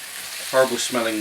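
Wine reducing in a hot pan for chicken cassoulet gives a steady close sizzle, with a brief louder stirring burst partway through.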